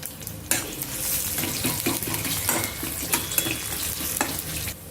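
Crushed unpeeled garlic cloves, urad dal and cumin frying in oil in a pan, a steady close sizzle with scraping stirs and light clinks of a spoon against the pan, no voices.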